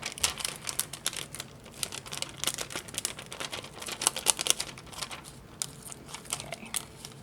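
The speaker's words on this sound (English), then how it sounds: "I'm gonna very carefully peel him up from the liner" Heat transfer vinyl is peeled slowly off its plastic liner, giving dense, continuous crackling and crinkling with small sharp ticks, close and fairly loud throughout, with no talking.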